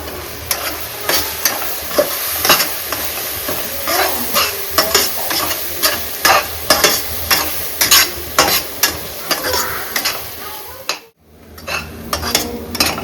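Ground masala frying with golden brown onions in a pan for Karnataka chicken curry, a dense, loud sizzle with frequent rhythmic scrapes and clinks of a spoon stirring, briefly cut to silence before resuming.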